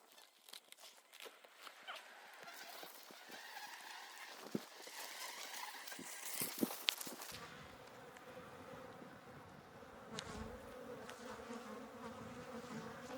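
Honey bees swarm around a hive built inside a water meter box, their steady buzzing hum close and continuous, with individual bees droning past and occasional sharper knocks.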